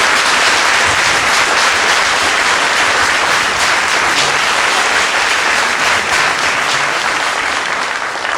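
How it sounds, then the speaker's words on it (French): A festival crowd gives Michel and Christiane a loud, dense ovation. The clapping stays close and full the whole way through, easing only slightly at the very end. "Alors, un gros applaudissement pour Michel et Christiane"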